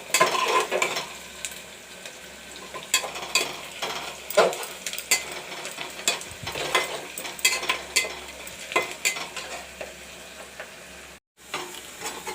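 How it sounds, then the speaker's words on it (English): Steady sizzling of onions frying in a pan for matar aloo, punctuated by frequent scraping and clinking of a utensil stirring, with a brief drop near the end. "Friends, you can see the onions frying."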